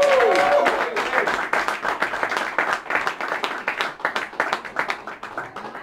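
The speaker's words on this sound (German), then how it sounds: "Und jetzt bitte ich Sie um einen Riesenapplaus für unseren Neuzugang." A hall full of ice hockey fans applauds a newly signed player at a team presentation, with steady, dense clapping that continues throughout.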